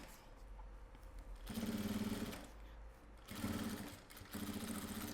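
A sewing machine runs a seam on a maxi box toiletry bag in two close, brisk bursts of stitching separated by quieter handling, with a third short run at the end.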